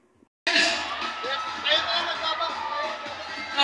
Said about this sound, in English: Folks, let's give him a round of applause, please.